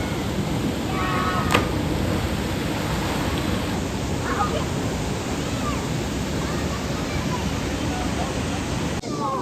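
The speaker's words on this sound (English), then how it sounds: "it's got obviously a gorgeous waterfall and everything" A waterfall at Rainbow Pools in Yosemite roars as a steady, dense wash of rushing water, loud and close, with faint background sounds scattered underneath.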